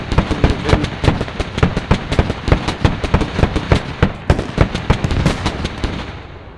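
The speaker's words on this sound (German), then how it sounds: "Ich mach einen feindlichen Tank. Ah, der wird richtig zerlegt." A rapid series of sharp explosions and cracking blasts in the Squad military game, close and loud, repeating in an irregular string for several seconds before fading.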